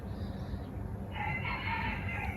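A rooster crows somewhat in the distance, its drawn-out call rising over a steady low rumble of outdoor background noise, with no voices present.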